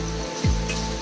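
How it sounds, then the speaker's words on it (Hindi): Heavy rain pours steadily on a rural village lane in Sambalpur, Odisha, a dense, loud hiss with a brief low thump partway through. "पूरा बारिश तो और ज्यादा भी तेज हो गया है।"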